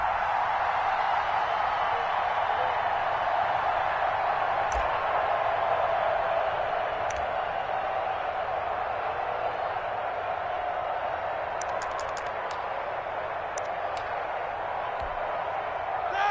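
Stadium crowd noise from an American football video game featuring the Steelers on PS4 forms a steady, dense roar that holds evenly throughout, with a few faint clicks on top.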